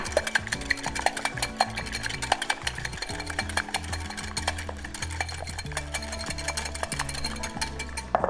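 A whisk or fork beats eggs in a bowl for a pudding, giving a fast, steady clatter of metal against the dish, close and continuous with no talking.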